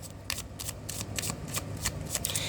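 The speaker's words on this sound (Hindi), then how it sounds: "Last shuffle." Tarot cards are shuffled by hand in a quiet room, giving a rapid series of soft, close riffling flutters at a steady rhythm.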